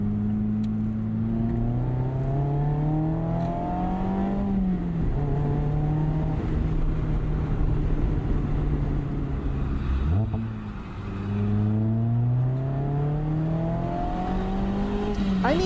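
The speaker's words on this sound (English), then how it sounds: "Just listen to that exhaust." Mazda Miata exhaust droning steadily while driving with traction control off, pitch rising through gears and dropping at shifts, loud and close throughout.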